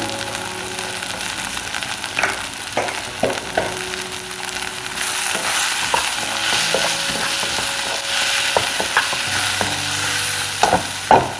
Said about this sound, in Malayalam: നല്ലപോലെ വഴറ്റുന്നു